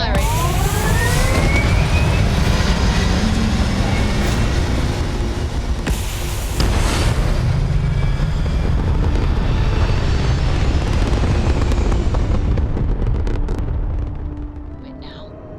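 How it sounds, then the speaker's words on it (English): Loud, sustained roar of spaceship thrusters firing in Starfield, a dense rumbling blast with whooshing sweeps that holds steady for about fourteen seconds, then tapers away. "Thrusters firing."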